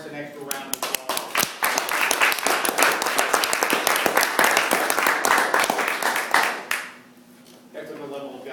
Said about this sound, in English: I think that by itself warrants an extra round of applause.